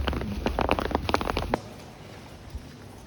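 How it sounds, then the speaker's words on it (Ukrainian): Crisp, rapid crunching of footsteps on snow for about a second and a half, close and fairly loud, then fading to a quiet outdoor hush, at a winter drift day. "Слухайте, як сніг хрустить хорошо, да, під ногами?"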